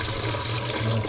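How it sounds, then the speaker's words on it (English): Water pours steadily into a cooking pot for a brisket and mushroom dish, a continuous close rushing splash with nothing else heard. "I'm going to add some water, but not too much"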